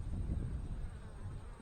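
Honey bees from a hive split being moved into a nuc box, heard as a steady low droning buzz close to the microphone, continuous and fairly loud with slight wavering and some wind rumble.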